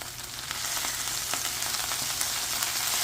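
Salmon sears in a hot pan for a citrus seared salmon dinner, giving a steady, close, dense sizzle and crackle that holds evenly throughout with no talking.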